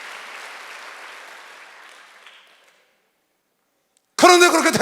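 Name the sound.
congregation clapping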